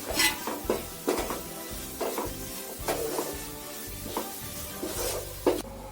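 Onion with coriander powder, chili powder and chicken masala stirred in a frying pan for chicken curry, giving a constant sizzle under rhythmic scraping spatula strokes, close and steady.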